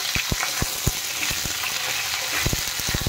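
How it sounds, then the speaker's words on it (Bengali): Close hiss of potato and cauliflower pieces frying together in a pan, punctuated by irregular light taps and scrapes of stirring, with nobody speaking. "আমি একসাথে ভেজে নিচ্ছি, আপনারা চাইলে কিন্তু আলাদা আলাদা ভেজে নিতে পারেন।"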